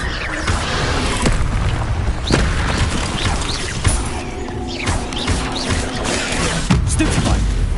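Spell effects from the video game Hogwarts Legacy burst out in quick succession, loud whooshes, booms and crashing impacts layered over dense continuous game noise, with sharp hits landing every second or so.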